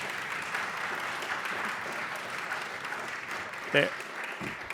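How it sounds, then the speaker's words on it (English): Audience applause at a documentary film festival panel, steady and fairly soft clapping from a seated crowd continuing throughout, with a brief louder knock or thump near the end. "please give a huge round of applause for Samantha, for Janet, for Charlotte, and for Kim"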